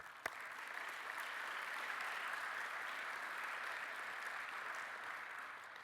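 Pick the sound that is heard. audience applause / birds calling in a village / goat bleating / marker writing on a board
audience applause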